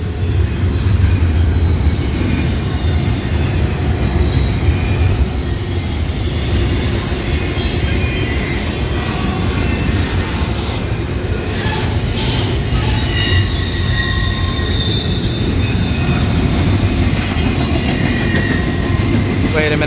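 Norfolk Southern freight train 268, led by locomotive 4547, rolls past close by in Homestead, Pennsylvania, with a loud continuous rumble of cars and wheel squeal that persists throughout.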